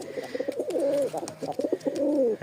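Tumbler pigeons coo in repeated soft, throaty rolls, several calls overlapping close by with no talking.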